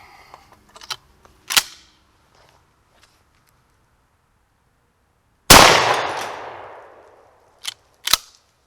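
A shotgun fires a birdshot round into shaving cream with one sharp, loud blast and a ringing decay, bracketed by a few smaller clicks and knocks in otherwise quiet surroundings.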